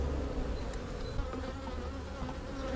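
Steady dense buzzing of a honeybee colony being rescued, a continuous droning hum of many bees close by with no voices over it.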